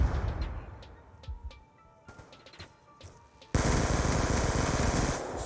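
A Scorpion submachine gun in Black Ops 2 multiplayer cracks out a few scattered shots, then a sustained loud burst of rapid automatic fire fills the final two seconds.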